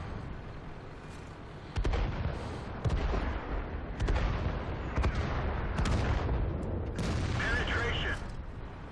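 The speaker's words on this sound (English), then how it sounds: "Drop some artillery on them." Explosive artillery fire in the World of Tanks video game, a series of loud booming impacts and shots spread across the clip over continuous battle noise.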